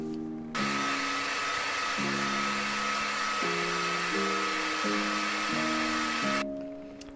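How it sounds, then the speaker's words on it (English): A heat gun or hair dryer warms the adhesive under a Canon 6D Mark II top LCD cover, a loud steady blowing whoosh that runs for several seconds, with a humming tone shifting pitch in steps, then cuts off. "I'm just going to heat up the camera after a little bit. I just want to warm up the adhesive"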